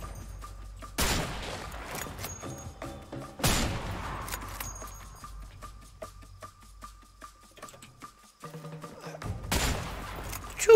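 Gunfire in the video game A Way Out: a few sharp, loud bursts of shots separated by quieter stretches of lighter clicks and metallic game sounds, with no talk over them.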